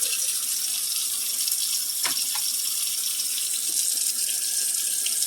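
Tap water runs steadily into a kitchen sink being filled for washing dishes, a continuous hiss and splash close by with a couple of brief clinks partway through.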